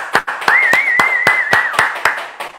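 A few people clap together in a radio studio, a sparse, steady run of sharp, close hand claps spaced evenly over a couple of seconds, with a faint tonal whistle underneath.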